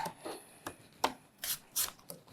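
Potato halves are sliced on a mandoline, heard as a series of quiet, close swipes and soft scrapes at an irregular rhythm with no voices.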